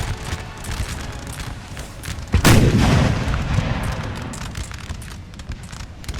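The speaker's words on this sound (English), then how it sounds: "Once that canister shot goes into the flank, they will break." Cannons firing canister shot in a Napoleonic-era video game battle: a sharp boom at the midpoint swelling into rumbling, over a constant crackle of distant musketry and battlefield noise.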